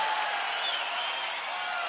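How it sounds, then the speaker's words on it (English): A crowd at a mixed martial arts fight between Silva and Adesanya cheers in a steady, loud roar that fills the arena without a break, with no distinct voices standing out. "Crowd totally engaged here"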